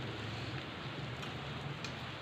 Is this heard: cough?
no